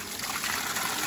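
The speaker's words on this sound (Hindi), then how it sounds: "ये बांझ होता है ना बांझ, उनकी जड़ों से पानी आता है।" Natural spring water trickles steadily from the roots of a banj oak tree in the Himalayan mountains, a close, continuous bright splashing dribble with no voices.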